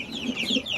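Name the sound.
hens clucking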